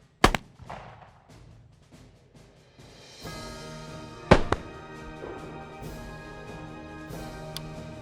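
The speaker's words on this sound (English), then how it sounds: "He now brings the weapon to full cock. Aim. Fire." A Civil War rifled musket fires at a target, giving a sharp, loud, close report in the first moment, then a second blast a few seconds later over a lingering ringing background.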